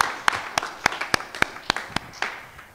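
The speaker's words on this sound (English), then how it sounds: "And we applaud because it is a privilege to give." Scattered claps from a church congregation at a Baptist worship service, a handful of sharp separate hand claps at an uneven pace, fairly close and moderately loud with no talk over them.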